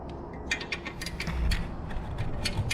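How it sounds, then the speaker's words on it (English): A wrench ratchets on the clamp bolt of a motorcycle exhaust with Tab Performance 4.5 inch B.A.M sticks, rapid close metallic clicks over a steady workshop hum, no voices. "So the first thing I want to do is loosen up the clamp bolt that's on the bottom of here."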